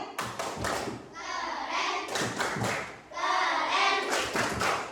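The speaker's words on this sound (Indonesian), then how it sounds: "Tepuk keren untuk Patan ya." A fifth-grade class claps out the "tepuk keren" chant in rhythmic bursts of thuds and claps, two clear rounds with children's voices chanting between the beats.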